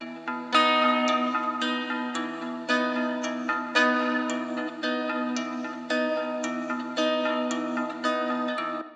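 Electric guitar played through a Caverns Reverb pedal set to spring reverb, a sequence of picked, ringing notes struck roughly every second, each decaying into a lush wash of reverb, steady and upfront with no voices.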